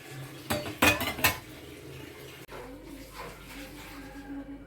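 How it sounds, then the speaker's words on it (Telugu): Roasted peanuts are crushed by hand in a few sharp, knocking strikes, followed by quieter scraping and grinding. "ఇలా కచ్చాపచ్చ నూరుకోండి"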